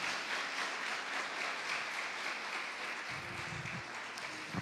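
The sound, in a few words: congregation applause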